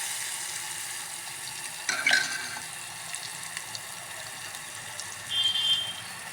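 Onions sauté in hot oil for a Gujarati vaghar tempering, a soft steady sizzle broken by a couple of brief stirring clinks, fairly quiet and with no speech.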